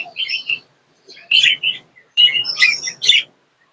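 Budgerigars chirp and squawk close by in bright, bursty clusters of calls broken by short pauses, with no voices.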